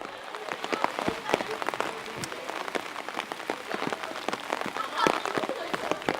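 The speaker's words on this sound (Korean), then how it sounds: "일정 내내 맑은 날이었는데 구름이 잔뜩 끼더니 비가 내리기 시작했다." Rain begins falling on a cloudy day during a youth history tour, a dense patter of drops with sharp close hits spread evenly throughout, steady and moderately loud with no talk.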